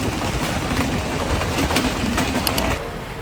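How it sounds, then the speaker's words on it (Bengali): A freight train rumbles past close by with a steady rolling roar and faint rhythmic clatter, no voices. "ওই আমার পিছন দিয়ে চলে যাচ্ছে ট্রেন মালবাহী ট্রেন"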